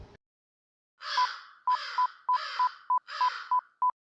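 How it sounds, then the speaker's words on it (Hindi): A phone number being dialed on a keypad: a quick run of about eight bright beeps in uneven groups, close and clear, with soft breathy rustling between them and no talking. "इलियास को फोन करता हूँ।"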